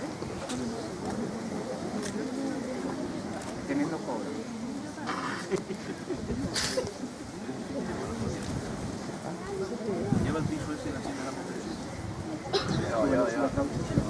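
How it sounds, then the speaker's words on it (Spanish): Strong wind blows at Puntallana during a bonfire and candle-lighting gathering, a constant low rumbling buffet under people talking nearby. "hace bastante viento hoy en Punta Llana."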